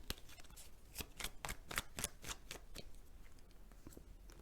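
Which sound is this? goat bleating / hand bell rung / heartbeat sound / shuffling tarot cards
shuffling tarot cards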